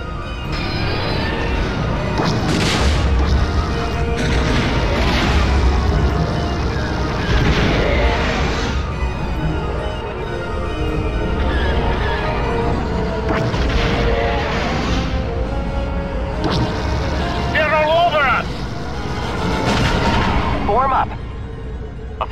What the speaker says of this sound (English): The transports are drawing heavy fire.